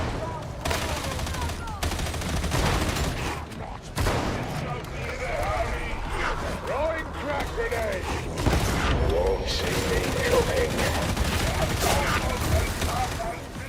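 Rapid video-game gunfire rattles in dense bursts and long volleys with near, loud impacts and booms, mixed with mechanical clicks. A voice talks over the shooting.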